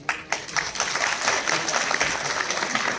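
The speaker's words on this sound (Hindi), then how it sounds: "आप सबकी तालियों के बीच हम स्वागत करना चाहेंगे" Audience applause welcoming guests at a closing ceremony, starting with a few scattered claps, then building into sustained, fairly loud clapping from a large crowd that holds steadily.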